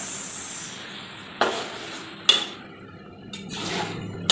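Galangal fried chicken cooking in a pan over low heat, a faint steady sizzle broken by a few sharp clinks and scrapes of utensils against the pan, quiet and close with no talking.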